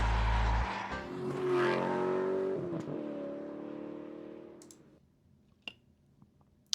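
Mazda MX-5 Miata sports car revving and accelerating away, engine note rising then fading into the distance, followed by a few faint clicks.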